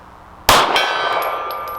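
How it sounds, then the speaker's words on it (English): A 9mm pistol shot rings off a silver steel gong target at about 50 yards, giving one sharp metallic clang that hangs in a long shimmering ring, with a second faint hit-like ping just after. "Start with the silver gong."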